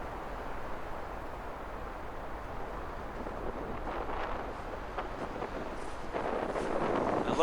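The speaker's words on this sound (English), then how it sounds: "Woo, it's windy." Wind gusts across an open snowy area, a steady rushing buffet on the microphone that grows stronger toward the end, with no speech.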